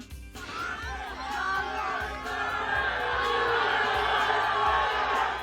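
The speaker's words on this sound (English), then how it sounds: "Let's go to Dallas, where fans are cheering" Football fans in Dallas cheering and shouting as a crowd, a swelling mass of voices with whoops that rises after a brief start and stays loud, with a faint rhythmic thumping underneath.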